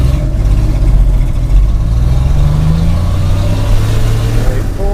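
A 1957 International truck pulls away in first gear, its mid-pitched engine droning steadily and rising slightly as it moves off, loud and close inside the cab with no speech.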